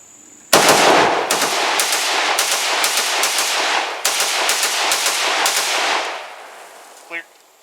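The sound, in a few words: gunfire from Romanian 7.62x39 AK rifle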